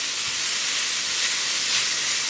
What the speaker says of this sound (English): I'm going to go ahead and add these raisins now, and then we're just going to keep frying